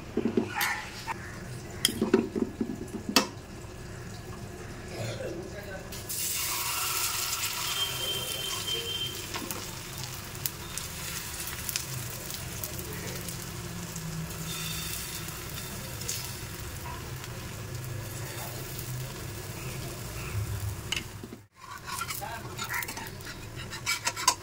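Leftover curry being fried and stirred in a pan, with light clatter and utensil taps at first, then a loud, sustained sizzle, scraping stirs and a brief drop near the end.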